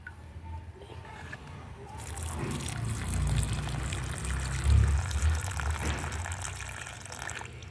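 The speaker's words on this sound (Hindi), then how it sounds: "साइड साइड में मैंने की वाटरिंग।" Water poured along the sides of garden soil around chrysanthemum plants, a soft steady trickle and splash that swells midway and stays moderately loud, with no talk.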